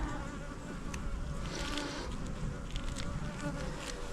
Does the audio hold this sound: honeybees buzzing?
yes